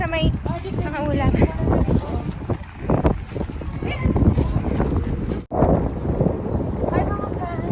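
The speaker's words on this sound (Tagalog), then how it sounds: "Nandito po kami ang hangin-hangin na." Strong wind blows across the microphone on a windy day in Tabuk City, a steady loud rush and buffeting that carries on throughout while people talk over it.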